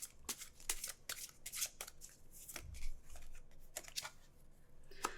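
Tarot cards shuffled by hand in a series of crisp, papery riffling bursts, close up and fairly quiet, with no voice over them.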